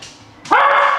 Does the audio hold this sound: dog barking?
yes